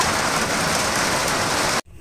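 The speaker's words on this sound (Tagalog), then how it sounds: "lumalakas na yung ulan" Heavy rain pouring steadily beside a riverbank dike during tilapia fishing, a dense loud hiss that cuts off abruptly near the end.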